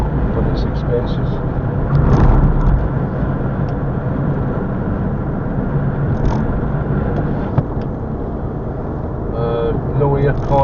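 Steady road and engine rumble from inside a moving car on a hot day, a constant broad drone with a person talking over it throughout.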